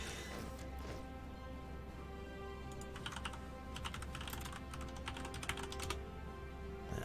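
Quick, uneven keystrokes clatter on a computer keyboard, soft at first and then gathering into denser bursts of typing, fairly faint and close.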